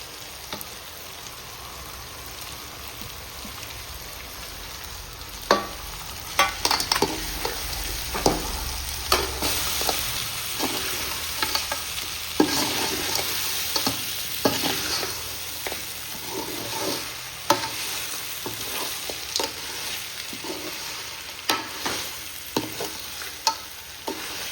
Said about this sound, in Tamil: மசாலா போட்ட நண்டு போட்டு வறுவல் பண்ண வேண்டியது.